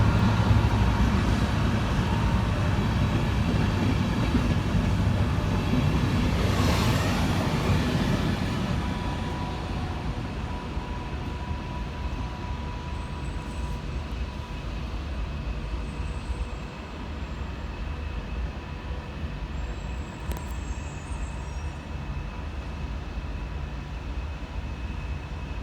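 An Avanti Class 390 train pulling out of Crewe station, heard as a steady broad rumble with a swelling roar early on that eases into a lower, sustained drone as the train moves away; no voices.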